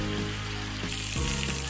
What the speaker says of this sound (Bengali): পাশ আমি ভালোভাবে ভেজে নিচ্ছি